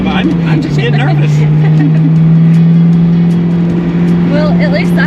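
A 1000+ horsepower twin-turbo Corvette accelerates hard with a loud, sustained engine drone heard from inside the cabin, while people talk over it.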